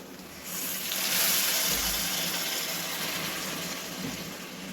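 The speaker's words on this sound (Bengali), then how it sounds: "এবার আমি গরম জল করেছি সেটা দিয়ে দিই।" Hot water is poured into a pot of mutton curry, giving a steady, close gushing splash that swells and then tapers slightly over a few seconds.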